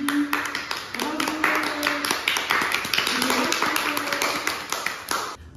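Children clap together in a brisk, scattered burst of applause lasting several seconds, with a faint voice underneath.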